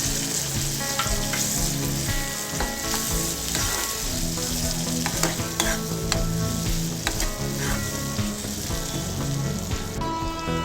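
Shredded cabbage and soaked chana dal fry in hot oil with turmeric, a steady close sizzle with scraping stirs throughout, no voices.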